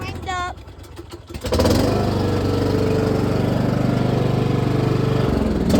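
A Cub Cadet riding lawn mower engine runs steadily, loud and close, after a brief start; a voice is heard over it early on.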